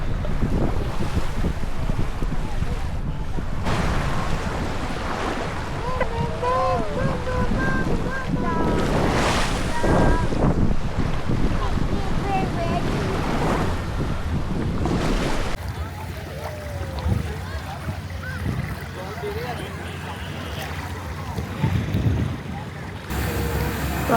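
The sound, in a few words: tour boat travelling over the sea near Krabi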